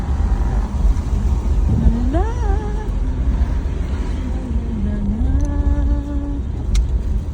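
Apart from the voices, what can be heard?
car passing on a mountain road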